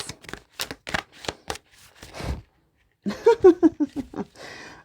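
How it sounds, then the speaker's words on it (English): Tarot cards are shuffled by hand in a quick run of crisp riffling flicks and taps, close and fairly loud, then a pause and another burst of card handling. "I'm trying to get the card shuffled for the next row."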